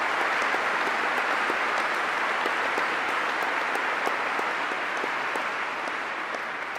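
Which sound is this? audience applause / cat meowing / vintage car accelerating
audience applause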